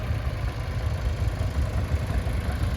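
Single-cylinder 3.5-litre diesel tractor engine running at a steam fair in Yorkshire, a steady low thumping drone heard close and continuous.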